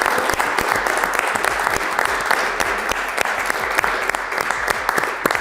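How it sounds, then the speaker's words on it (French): A crowd applauds at the Concordia University Anges du génie winners' ceremony, dense sustained clapping with sharp individual claps throughout, close and lively. "On peut donner une bonne main d'applaudissements à vous tous."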